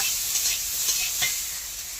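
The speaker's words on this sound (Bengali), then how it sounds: "আমি সব কিছু আনাজ একসাথে নেড়ে নিচ্ছি" Mixed vegetables are stirred together in a hot frying pan, with a steady sizzle under a few soft, close scrapes of the spatula against the metal.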